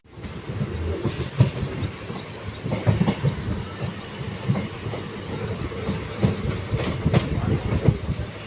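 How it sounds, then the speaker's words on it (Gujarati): Dhola to Veraval passenger train pulling away from Dhasa station, heard from on board as a steady, close rumble with rhythmic wheel clacks over the rails and no voices. "આપણે ઢસા સ્ટેશનથી નીકળી ચૂક્યા છીએ"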